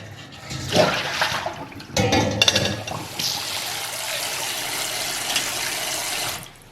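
Water runs and splashes steadily close by as sushi rice is rinsed under the tap, with brief gurgling surges early on before settling into a continuous flow that cuts off at the end.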